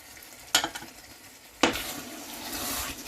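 Water poured into a pan of simmering mackerel sauce, two sharp splashes that set off a loud, steady sizzle, close up.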